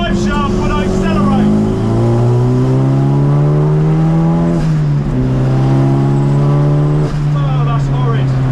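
Race car at Snetterton accelerating with a vibrating right drive shaft, the engine note climbing loud and close through the gears with brief drops at shifts.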